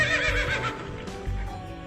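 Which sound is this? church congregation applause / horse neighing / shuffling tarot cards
horse neighing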